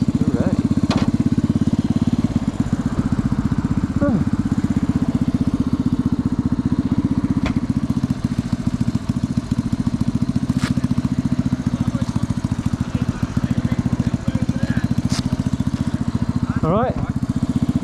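A 65 cc Honda Cub motorcycle engine idles steadily and loudly up close, its even low putter continuing without a break.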